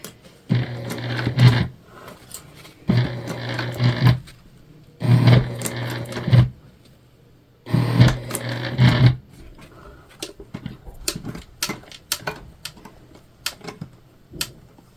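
Sewing machine stitches through a tote bag over double-layered zipper teeth in four distinct loud bursts of rapid mechanical chatter, separated by pauses, followed by quieter clicks and handling noises.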